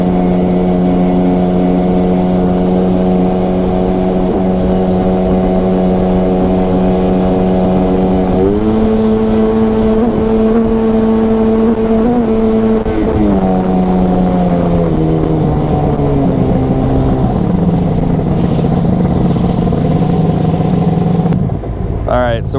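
Kawasaki XPL 951 personal watercraft engine with a Mikuni Super BN 46i carburetor runs loud and steady at three-quarter throttle, its drone shifting pitch partway through as throttle opens wider, then dropping near the end.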